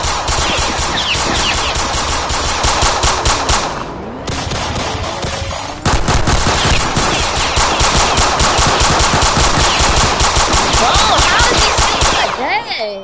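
Rapid automatic gunfire in the Roblox game South Bronx: Trenches, loud and nearly continuous bursts over many seconds with brief pauses, fast rhythmic shots filling the clip.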